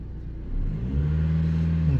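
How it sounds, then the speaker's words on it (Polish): Car engine cranking and catching, then settling into a steady low idle that hums close by with no talk. "Teraz spróbujemy zapalić auto. Auto zapaliło"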